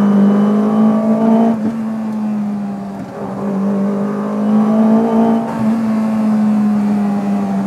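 Modified VW Golf MK1 front-wheel-drive car driving hard on a track, its engine droning steadily and loudly throughout with rising and falling revs, no talking.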